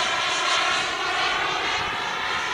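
A Thorjet Hawk model jet aircraft flies with the power on, giving a steady loud engine roar with a constant whine throughout.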